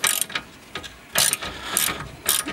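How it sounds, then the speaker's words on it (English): Ratchet undoing an 18mm suspension bolt on a VW Passat, several bursts of rapid clicking close up, separated by short pauses. "Just going to undo this bolt."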